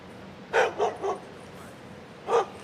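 A dog barks four times, three quick barks in a cluster followed by a single bark after a pause, moderately near against a quiet outdoor morning background.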